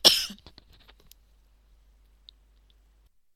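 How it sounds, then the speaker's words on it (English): A single short, harsh cough from pastel dust bursts out loudly at the start, followed by faint mouth and throat sounds, then near silence. "Coughing fit."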